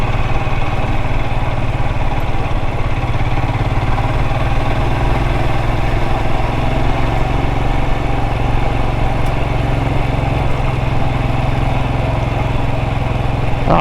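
Royal Enfield Himalayan 411 single-cylinder engine pulling in second gear, loud and close: a steady, unbroken throbbing drone that holds its pitch throughout with wind rush, no voices.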